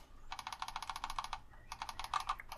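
Quiet, rapid computer key and mouse clicking during a Simutrans session comes in two quick clattering bursts separated by a short pause, close-up and soft, with no voices.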